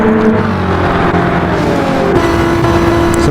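Race cars running three abreast through a banked turn in a Daytona racing video game, with engines droning loud and steady in a dense layered roar and no voices over it.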